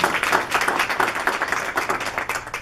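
An audience at a Korean business association's chapter president inauguration ceremony claps in appreciation, a close, lively burst of many hands that surges and dips unevenly for a couple of seconds.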